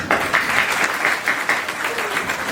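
Applause from an audience at an International Women's Day event, steady clapping that holds for the whole stretch, with voices faintly present beneath it.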